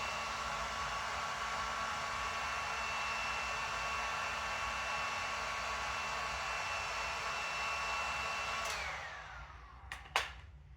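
A hot air blower runs inside a Nike Air Barrage sneaker with a loud, steady whooshing hum, then winds down and cuts off near the end, followed by a couple of sharp clicks.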